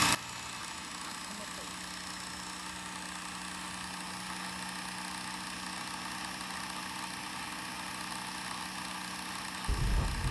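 A Jukebox bobbin winder spins thread onto a bobbin with a steady, low motor hum and faint whir, continuous and even for about ten seconds before a brief change at the end.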